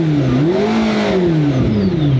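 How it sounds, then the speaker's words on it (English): McLaren P1 twin-turbo V8 running close by, a loud continuous engine note rising and falling in pitch with induction roar and turbo whoosh layered on top, heard alone without talk. "the induction noise, the turbo wastegates of the car. It's a twin turbo V8"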